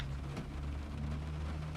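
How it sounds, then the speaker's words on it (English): Heavy rain in the Train Simulator 2021 video game, heard from a train cab with the wipers running: a steady, dense hiss of rain over a constant low engine hum, with no talking. "it's really hard to see with that much rain"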